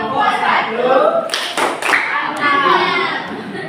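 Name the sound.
audience clapping for group 1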